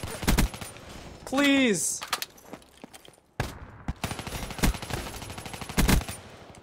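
Shotgun blasts in Call of Duty Black Ops 3 free-for-all, several sharp, loud cracks scattered among game effects and a rising whistle, with a player speaking over the gunfire.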